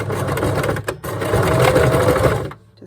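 A sewing machine stitches along pinned fabric with a loud, close, steady mechanical whirr that runs nearly the whole time, with a brief dip before cutting off at the end.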